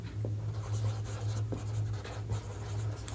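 Pen scratching on paper while working a set theory problem, soft irregular strokes close by over a steady low hum, with no talking.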